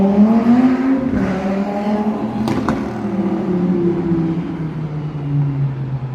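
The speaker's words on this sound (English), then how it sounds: "He wants everyone to know that he's in a supercar." A supercar engine revs loudly on a city street at dusk, with a strong, steady low roar that rises and falls in pitch as it holds, and a brief sharp click partway through.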